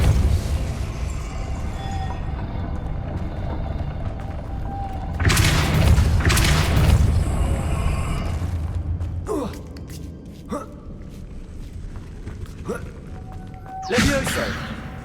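Depulso, a pushing spell, cast in the Hogwarts Legacy video game on PC; a sudden burst of noisy whooshing impact rises at mid-clip over steady game ambience, followed by a few sharp, brief magical cracks and another burst near the end.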